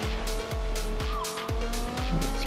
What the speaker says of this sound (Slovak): To auto má veľmi dobrú akceleráciu.